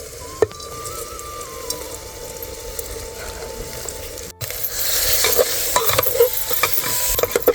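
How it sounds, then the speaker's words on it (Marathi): Dal and rice being sautéed in a pan with spices for dal khichdi: a faint hiss and light stirring scrapes, then a louder, fuller sizzle after a brief drop, with clinks of a spoon against the pan. "आता मस्त पैकी परतले डाळ आणि तांदूळ टाकून घेऊ."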